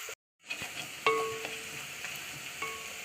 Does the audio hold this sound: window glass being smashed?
no